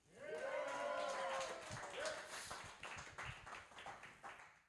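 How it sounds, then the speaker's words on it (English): Applause and cheering from a comedy show audience, dense clapping rising quickly with a voice over it at first, then thinning to scattered claps toward the end. "Let's have a big round of applause for Mr. Scott Galvin"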